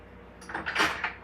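A kitchen drawer rattles open during a search for a whisk, a short burst of sliding and clattering utensils, close and moderately loud over a faint background hum.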